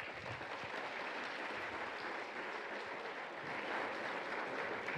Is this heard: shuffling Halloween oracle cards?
no